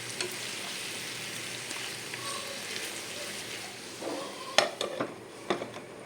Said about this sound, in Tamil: சிக்கன் எடுத்து போட்டு அப்படியே கொஞ்சம் எல்லாத்துக்கு பக்கம் பரட்டி விடணும்.